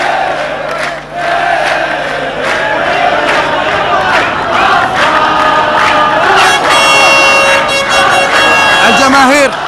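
Loud football stadium crowd of Qadsia fans roaring and chanting after a goal in a Gulf Cup match, a dense sustained wall of voices with rhythmic shouts and whistles, under a commentator's excited talk.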